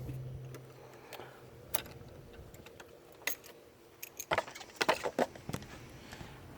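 A socket wrench with an extension loosens short bolts on a 2014 Chevy Cruze 1.8L thermostat housing, giving faint, scattered metallic clicks and taps that bunch into a quicker cluster toward the end.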